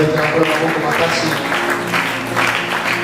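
A church congregation applauding for the Lord, steady close clapping from many hands with a musical drone and voices mixed underneath.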